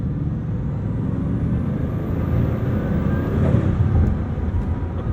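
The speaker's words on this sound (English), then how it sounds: "You have the induction noise, you have the turbocharger spooling" A Bugatti Chiron Super Sport driving through a tunnel: a loud, steady engine roar from induction with a thin, high turbocharger whistle that rises and then drops away, all heard from close inside the car.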